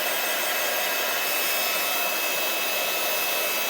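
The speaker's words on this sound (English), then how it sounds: "always put your heat tool on first and let it warm up." An embossing heat tool blows steadily as it warms up before card-making, a continuous loud broadband roar like a hair dryer that holds even throughout with no pauses or speech.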